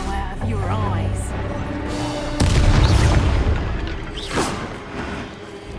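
A Confringo spell explosion in Hogwarts Legacy: a sudden deep boom bursts in partway through and rumbles for a couple of seconds, after a stretch of voices and game ambience.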